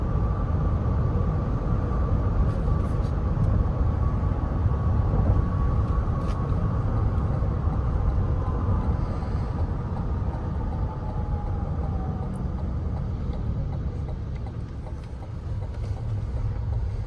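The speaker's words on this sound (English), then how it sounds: "That engine sounds amazing." A 2022 Cadillac Escalade Sport Platinum engine plays as a steady, loud drone while driving, a continuous low rumble with road noise throughout and no talking.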